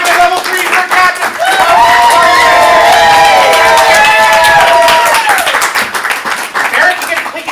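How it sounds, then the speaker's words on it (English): Loud audience clapping and cheering at an improv comedy show in Portland, with rising whoops and shouts over dense applause that swells for several seconds and then fades. "Give the applause for the level 3 for captain."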